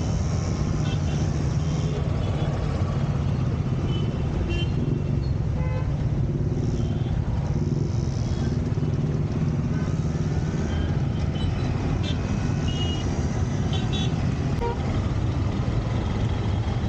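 Congested road traffic on a village street, with a steady dense rumble of idling and creeping cars, motorbikes and trucks, and a few short horn toots rising over the din throughout.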